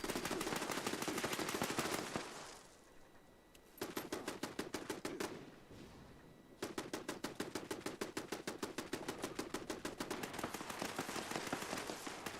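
Automated turrets firing in Fallout 76: rapid bursts of loud, sharp gunfire in regular rhythm, a brief pause, another burst, then a long sustained stream of rapid shots, close and dominant with no talk.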